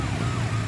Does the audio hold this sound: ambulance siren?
yes